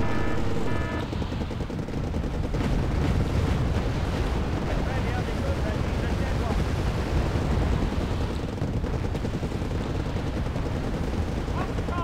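Dense, continuous gunfire and explosions from the video game Wargame Airland Battle, with machine-gun bursts and artillery blasts rolling loudly throughout, a voice talking over the battle.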